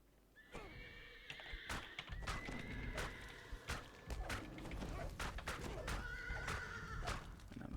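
A horse neighs repeatedly in the Dungeons and Dragons Online video game, shrill whinnies mixed with clip-clopping hooves and sharp combat thuds, loud and close.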